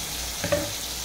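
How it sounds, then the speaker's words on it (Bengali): Pangas fish pieces fry in oil with a soft, steady sizzle, close by and fairly quiet, with a faint short clink partway through. "এখন আমি তাই ভেজে নিচ্ছি"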